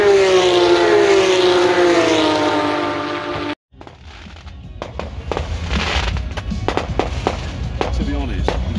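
Fireworks at a campsite during the Belgian Grand Prix at Spa crackle and pop in a rapid, irregular series of sharp bursts at middle distance, following a steady droning tone that cuts off abruptly.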